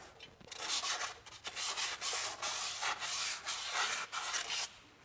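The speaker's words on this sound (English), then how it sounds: "I'm even gonna grab some really light sandpaper just to get that surface nice and smooth on the inside." Light sandpaper rubs by hand inside the hub bore of a Nissan truck front hub, a quick rhythmic scratching with repeated back-and-forth strokes, close and fairly quiet, with no talking.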